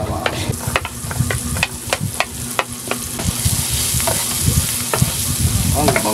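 Onion and garlic sizzle and fry in melted butter in a pan, a loud continuous crackle broken by repeated close scrapes and stirs of a spatula, with no voices.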